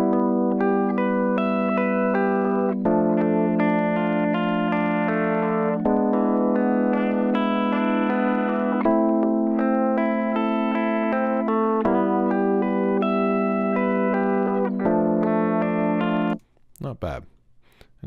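Sustained distorted electric guitar chords ring out in steady blocks with abrupt changes, cutting off sharply near the end as a noise gate with a lowered threshold clamps the tail.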